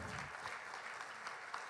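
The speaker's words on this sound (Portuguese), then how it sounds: "um grande e forte aplauso por 101 anos dedicados ao desporto" An audience applauds a celebration of 101 years devoted to sport and culture in Madeira, a soft, distant patter of many hands, faint and even across a brief stretch.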